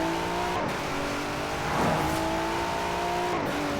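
A car engine drones steadily while driving in Forza Horizon 4, its pitch sweeping up and down through gear changes and revving, loud and continuous with no talk.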